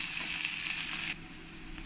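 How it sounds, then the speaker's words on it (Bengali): Onions frying in hot oil for a chicken curry give a steady close sizzle that drops abruptly to a quieter crackle partway through, with no talking. "এই পেঁয়াজটা দিয়ে দেবো। দিয়ে ভালো করে পেঁয়াজটা আমি লাল লাল করে ভেজে নেব"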